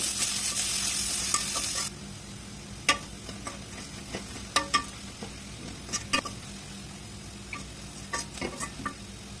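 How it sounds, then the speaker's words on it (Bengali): Chopped garlic and onion frying in a pan: a loud sizzle for the first two seconds, then a quieter crackle with scattered clicks of stirring. "রসুন কুচি এবং পেঁয়াজ কুচি দিয়ে ভালো করে ভেজে নিব"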